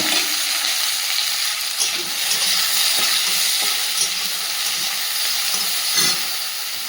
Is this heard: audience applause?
no